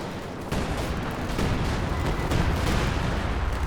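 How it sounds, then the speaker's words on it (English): Time-on-target artillery barrage in Company of Heroes 2: a dense, continuous rumble of overlapping shell blasts and booms that starts abruptly and keeps up steadily, loud and close. "JaeforJett calls in as a counter, time on target, artillery barrage."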